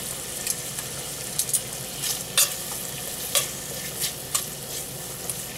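Pancetta fries in a pan with a continuous bright sizzle, punctuated by several sharp crackles and scraping stirs at irregular intervals, close and fairly loud.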